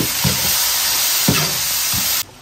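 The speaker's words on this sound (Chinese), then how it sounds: "炒香下入大料，继续炒香" Spices and star anise sizzle in hot oil in a wok, a loud steady frying hiss with a few scraping stir strokes before the sound cuts off abruptly.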